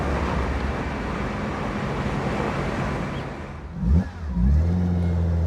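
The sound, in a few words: 1967 Fiat Dino Spider 2.0 engine accelerating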